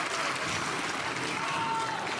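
Spectators at a professional pickleball match applaud steadily, a dense and fairly faint wash of clapping that lasts the whole moment.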